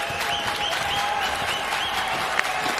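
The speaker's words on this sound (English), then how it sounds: "just listen to the NC State crowd now that the game is tied" An NC State baseball crowd at the Men's College World Series against Kentucky cheers and applauds in a tied game, a steady roar of clapping and shouts with whistles on top, no commentary.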